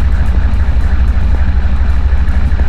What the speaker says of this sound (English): But first, let's run the engine.